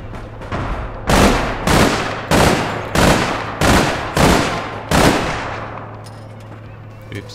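Video game APB Reloaded firefight: seven loud, evenly spaced gunshot bursts roughly every half second, close and punchy, with a low steady hum underneath and quieter clatter after the shooting stops.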